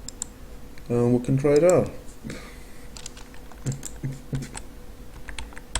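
Computer keyboard typing during a Clickteam Fusion 2.5 ragdoll lesson: a few light, scattered key clicks near the mic, mixed with someone speaking.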